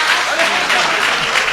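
Dense, continuous applause from a crowd at a live poetry gathering, loud and close, sustained evenly throughout without pauses.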